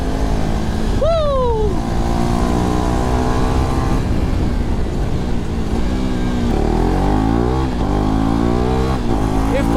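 A KTM RC 390 motorcycle engine revs loudly and close, sweeping up and down in pitch through several throttle blips and gear changes, with a voice briefly whooping over it.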